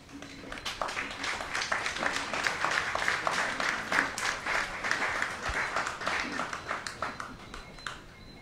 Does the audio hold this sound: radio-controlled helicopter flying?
no